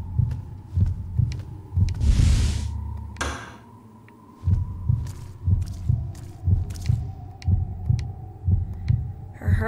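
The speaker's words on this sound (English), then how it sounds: "Her heartbeat is going crazy." A game character's racing heartbeat in the video game Kuon, a rapid, loud double-thump pulse repeating steadily over a low hum, briefly broken by a burst of noise and a pause before the beats resume.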